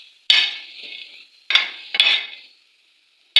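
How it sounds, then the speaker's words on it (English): Groundnuts being stirred in a dry pan while toasting, three sharp scraping bursts with short rattling tails separated by silent gaps, close and clear with no talk. "You just stir it up to brown a bit in a dry pan."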